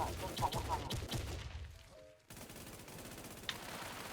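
Rapid gunfire in a video game, dense bursts of automatic shots that break off briefly midway and then resume as continuous firing, with a sharp single crack near the end and a voice faintly underneath.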